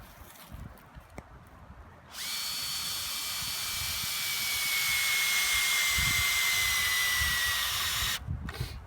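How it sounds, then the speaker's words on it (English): A cordless drill drives a long screw into a wooden fence post for an H-brace outdoors, running in one sustained whine of several seconds with slowly falling pitch, close and loud, then stopping. "you put your first two screws in while the horizontal post is laying on the ground"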